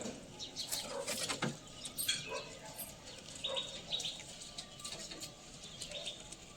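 Madrazi breeding-pair pigeons give soft, scattered coos and chirpy calls with light fluttering clicks, close by and fairly quiet, with no talking.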